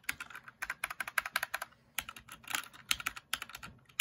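Typing on a Magegee gaming keyboard fills the clip with close, crisp key clacks in quick uneven bursts and short pauses, with no voices over them.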